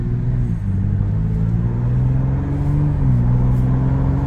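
A Ford Bronco accelerates on the road, its engine rumbling loudly and close, the pitch climbing steadily through the pull with a brief shift partway.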